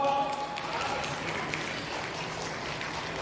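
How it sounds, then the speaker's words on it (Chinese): An audience at a formal overseas Chinese community gathering applauds, a dense, sustained patter of many hands clapping at moderate distance, steady throughout with faint voices mixed in. "大家给掌声好不好？"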